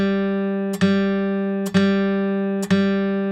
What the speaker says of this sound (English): Put a metronome on, 60 beats per minute, tap your foot, play to the click